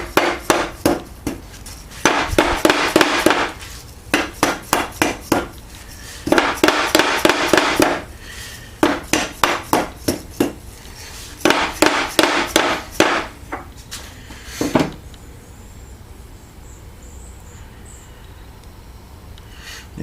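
Parts of an Ash & Co. 8-inch three-jaw lathe chuck are knocked through with polishing compound. Loud metallic taps come in rapid bursts separated by short pauses, ending with a single knock before quiet.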